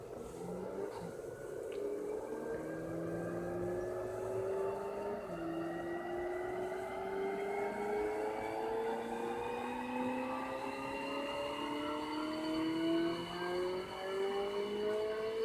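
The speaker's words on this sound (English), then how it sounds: "here's my dyno run" A video game car's engine revs during a dyno run, rising steadily in pitch over about fifteen seconds with a continuous loud drone and layered harmonics, heard alone without talk.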